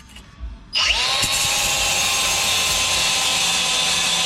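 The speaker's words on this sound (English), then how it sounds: "Got the buffing or the grinding pad, and we're gonna get this all cleaned up so I can start the welding process." A grinding pad on a power tool spins up and runs loud and steady, cleaning rust and paint off the rear crossmember of a 2002 Chevrolet Silverado truck before welding, with a high whine right up close.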